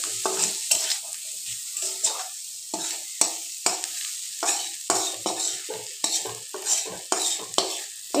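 Spice mix and other ingredients being stirred together in a hot pan: a series of rhythmic scraping strokes, roughly one or two each second, over a bright continuous sizzle, close and fairly loud.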